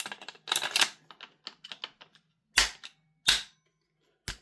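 A magazine being struck into a CGS gas blowback airsoft rifle, a series of sharp, close plastic-and-metal knocks and clacks, several light taps followed by three louder separated smacks.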